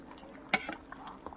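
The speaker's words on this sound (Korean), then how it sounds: "냄비가 자꾸 움직이네요." A single sharp metallic clatter of a pot shifting on a stovetop while cooking braised spicy chicken, followed by faint scattered clinks in a quiet room.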